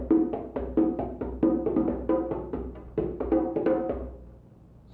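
East African ngalabi long drum, skinned with water lizard hide, plays a rhythm mixing deep center beats, ringing strokes and light finger taps, close and solo in a quick repeating pattern that tapers off at the end.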